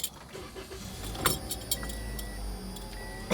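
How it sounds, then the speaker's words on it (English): Keys jangle and clink close by inside a car as it is started, in several short metallic bursts over a low, steady rumble, with a sharper rattle at the end. "I have to start the car."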